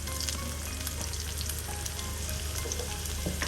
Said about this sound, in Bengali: আমি পরিমাণ মতো তেল দিলাম, এখন পরিমাণ মতো পেঁয়াজ কুচি দিয়ে দিলাম ভিউয়ার্স।